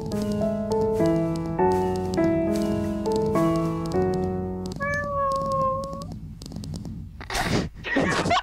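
A cat meows close by, repeatedly and insistently, in a run of strained, drawn-out cries. A longer wavering call follows, then the cat goes quiet amid some rustling and a brief sneeze-like burst.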